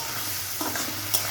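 Tomato and ground spice masala sautés in a pan for an egg curry, a short close burst of soft sizzling with a stirring scrape, no talking.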